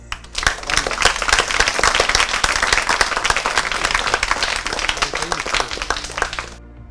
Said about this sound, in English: be giving a round of applause